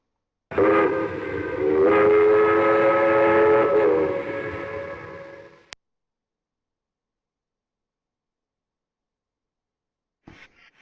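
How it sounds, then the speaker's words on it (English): A train in the Railroad Tycoon Deluxe video game sounds a loud, sustained multi-tone whistle for about five seconds and then cuts off abruptly, leaving silence with a faint click near the end. "New train."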